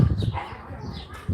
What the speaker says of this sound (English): I got all my dogs here